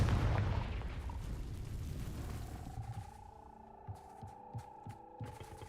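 A Confringo fire spell explodes in Hogwarts Legacy with a deep booming blast that rumbles and fades over a few seconds, followed by faint crackling pops and a lingering tone.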